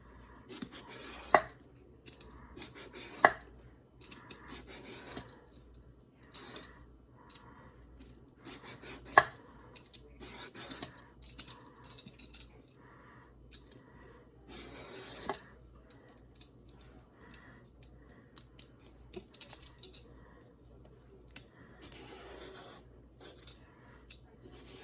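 Vegetable peeler scraping the skin off an eggplant in a home kitchen, with short rasping strokes that come in irregular bursts alongside small clicks and taps of the tool, close and fairly quiet between strokes.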